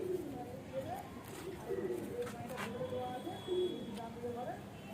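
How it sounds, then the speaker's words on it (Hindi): Pigeons in a West Bengal loft coo repeatedly in soft, rolling calls at close range, under ongoing conversation between people. "ये मादिन कबूतर है शायद।"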